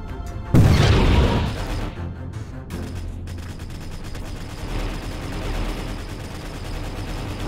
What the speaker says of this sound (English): Do a little bit of that strafing.